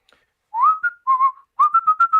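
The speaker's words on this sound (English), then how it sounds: "I'm glad you can whistle." A person whistles a short, clear tune up close, three phrases of sliding and repeated notes, alone with no talking.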